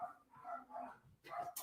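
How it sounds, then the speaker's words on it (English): Several dogs bark in a home, faint and somewhat distant, a handful of irregular barks spread across the moment, ending in a louder burst. "The dogs might stop barking."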